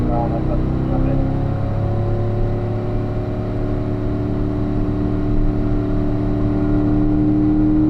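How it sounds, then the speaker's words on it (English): A car engine drones steadily as it accelerates out of a corner on a track, its pitch rising slowly under the steady voice of a driving instructor. "Now squeeze on the throttle as you come out of that corner"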